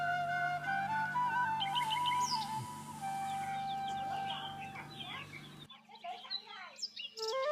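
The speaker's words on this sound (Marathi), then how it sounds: "इथे हा एक गावठी कोंबडा आहे" Several backyard village chickens in Konkan cluck and chirp continuously, with a desi rooster's drawn-out call among them, then scattered nearby clucks against a quieter background.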